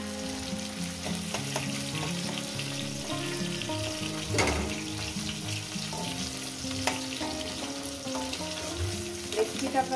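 Potatoes and okra fry in oil with a continuous close sizzle, broken by occasional clinks and scrapes as pieces are stirred and lifted out, over faint background music.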